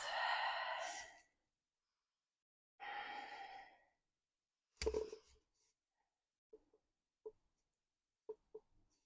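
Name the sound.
deep breathing during exercise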